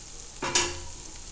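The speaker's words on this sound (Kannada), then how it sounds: "ಚೆನ್ನಾಗಿ ಅದನ್ನು ಈರುಳ್ಳಿನ ಎಣ್ಣೆಯಲ್ಲಿ ಸ್ವಲ್ಪ ಚೆನ್ನಾಗಿ ಬಾಡಿಸಿ" Onions sautéing in oil in a pan for a North Karnataka green gram dish, a soft sizzle with a brief stirring scrape, quiet and close with no talking.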